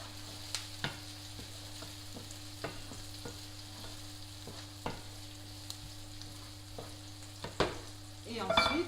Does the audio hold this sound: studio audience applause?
no